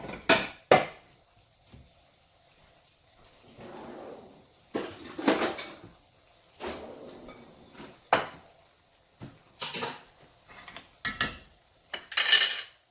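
Chopped meat is scooped from a pan into a bowl for Sicilian rice balls, with scattered clinks and knocks of a utensil against pan and bowl, some sharp, some soft scraping, spaced irregularly with quiet gaps.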